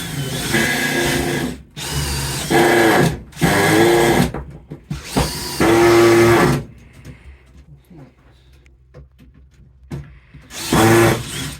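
Power drill driving screws into wood at an allotment, several loud whirring bursts of a few seconds each with short pauses between, a quieter stretch in the middle, people talking faintly at times.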